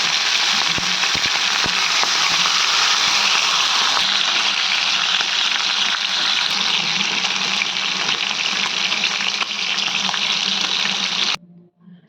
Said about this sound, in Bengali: এখন আমি মাংসগুলো একটা একটা করে ভেজে নেব।